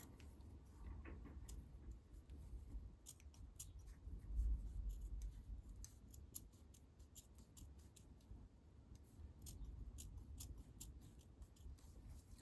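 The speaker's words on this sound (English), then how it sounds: "to start off with, you want to neatly cut the sleeve out" Scissors cutting a sleeve out of a fabric garment, giving soft, close snips and crisp clicks in an irregular run over quiet background rustle.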